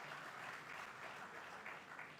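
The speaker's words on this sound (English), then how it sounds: "Please a round of applause for them." Audience in a university lecture hall at an inaugural lecture applauds distinguished guests, a steady, dense wash of clapping from many hands sustained throughout at moderate distance.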